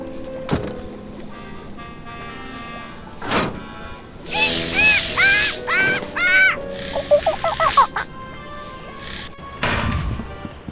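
Cartoonish parrots in the adventure game Tales of Monkey Island squawk in a burst of shrill, warbling calls over a soft background score, loud and close, after a brief quieter stretch.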